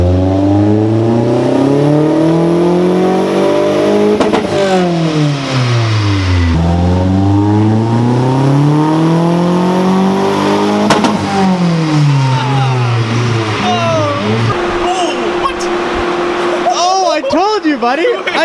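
A boosted KA24 engine in a Nissan 240SX revs on a dyno, climbing through the gears in long, loud, sweeping pulls, then easing off to a steady idle with a few blips, while people talk and cheer nearby.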